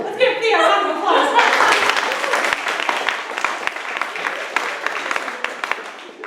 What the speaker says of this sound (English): Let's give Thea a round of applause.